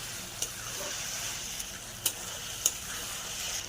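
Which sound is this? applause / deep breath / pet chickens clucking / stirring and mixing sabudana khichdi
stirring and mixing sabudana khichdi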